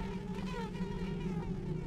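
A faint, steady insect drone from flies in the video game Thief: The Dark Project hovers in the background, a low continuous buzz with gentle wavering and no voices.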